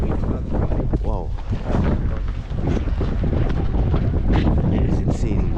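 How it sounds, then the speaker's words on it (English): Strong wind buffets the microphone outdoors in Tromsø, Norway, a loud, gusty roar throughout with a voice speaking over it. "Oh, the wind is really very strong right here."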